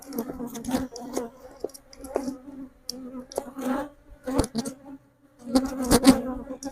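Honeybees buzzing steadily around an open hive frame during a walkaway split, with a constant drone broken by louder swells and bursts of close wingbeats.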